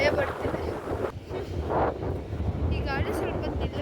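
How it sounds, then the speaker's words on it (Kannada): Strong wind buffeting outdoors, heavy low rumbling gusts blasting the microphone nearby, with someone talking over it in bursts. "ಈ ಗಾಳಿ ಸ್ವಲ್ಪ ನಿಲ್ಲಬೇಕು"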